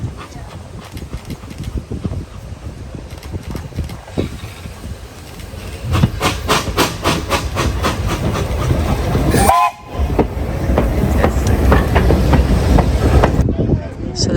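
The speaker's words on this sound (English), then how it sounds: "so the train is here" Train pulling into a small UK station at Broadway, with a rumbling approach, rattling wheels and a loud horn blast midway, then a steady heavy roar as it comes alongside; voices murmur faintly beneath.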